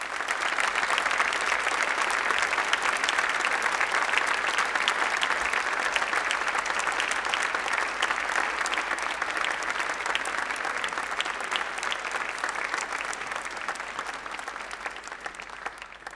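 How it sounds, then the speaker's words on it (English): A large crowd of friends and families applauds medical graduates at a university graduation ceremony, sustained dense clapping filling a big hall, loud and continuous throughout before easing slightly at the end. "please do give them applause."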